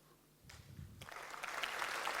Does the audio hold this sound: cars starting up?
no